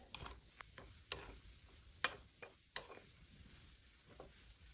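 A spoon scrapes and clinks against a bowl while stirring a baking soda cockroach bait mixture, giving several quiet, irregular taps and scrapes close by.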